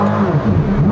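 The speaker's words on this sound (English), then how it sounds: "Rev up your car." A big old car engine revs hard at a drag race, giving a short, loud, steady roar with a throaty low growl throughout.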